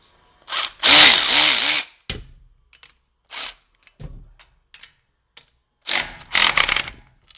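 Durofix G12 12V extended cordless ratchet turning header bolts, with a loud mechanical whirring burst near the start, a few quiet clicks and taps in the middle, and another short whirring run toward the end.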